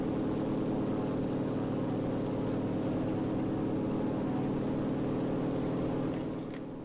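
Steady, droning aircraft engine in the World War II shooter game Enlisted, a continuous low hum that holds loud and even throughout before easing slightly at the very end, with no voices.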